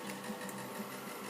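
A metalworking saw runs with its cover removed, its drive pulley suffering a sheared keyway and giving off an odd steady mechanical whir with a faint rhythmic ripple, fairly quiet and without speech.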